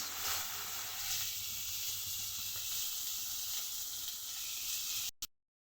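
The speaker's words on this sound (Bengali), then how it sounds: "এর মধ্যে দিয়ে দেবো কুচিয়ে রাখা একটু পেঁয়াজ" Chopped onion fries in a little leftover oil with a loud, constant close-up sizzle and hiss that cuts off abruptly near the end, no voices.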